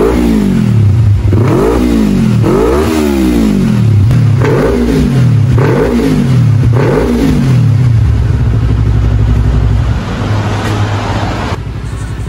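A Yamaha R25 motorcycle on a dyno, fitted with an aftermarket Kea speed & Velocity exhaust and set to a CO setting of 15, revs loudly and close in repeated rising and falling bursts before holding a sustained high rev.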